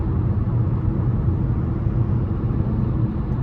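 Steady low cabin rumble of wind and tire road noise inside a 2025 Chevrolet Trax 2RS with a 1.2-litre turbo three-cylinder on 19-inch wheels, driving at speed, continuous and even with no voices.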